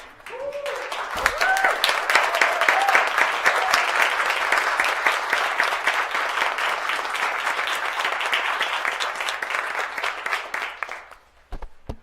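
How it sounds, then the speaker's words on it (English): A school board meeting audience gives a standing round of applause for four future teachers, sustained dense clapping that swells quickly, holds for about ten seconds, then tapers off, with a few voices rising briefly at the start. "let's stand and give them a round of applause"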